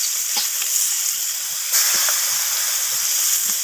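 Sliced onion hits hot oil with nigella seeds in a pan, giving a steady, close sizzle with crackling pops and a few stirring scrapes throughout.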